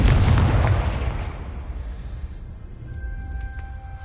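A Confringo blast spell in the video game Hogwarts Legacy goes off as one loud booming explosion that rumbles and fades over a few seconds, leaving a quiet ringing tone behind.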